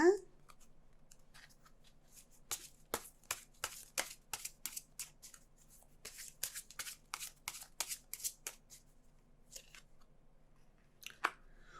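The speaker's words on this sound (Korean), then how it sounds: "5번 분들 애정은 카드 간단하게 뽑아보도록 하겠습니다." Tarot cards being shuffled and drawn, a long run of crisp riffling flicks and snaps in quick bursts, close and clear, with brief talk at the start.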